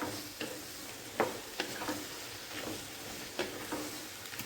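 A spoon stirs a sizzling pan of green onion, pea and potato curry, a soft steady fry broken by several sharp clicks and scrapes from the utensil, close by and with no voices.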